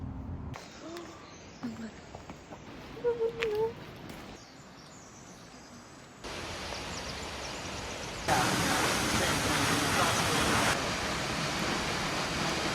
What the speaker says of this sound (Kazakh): Ол сарқырама North Falls деп аталады.